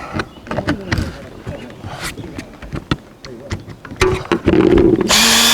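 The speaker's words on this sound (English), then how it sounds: "Make sure you got the drill pushed down really well." A power drill driving screws while replacing an RV roof vent whirs in short bursts between knocks and handling sounds, then runs loudly and continuously at the end; a voice talks briefly.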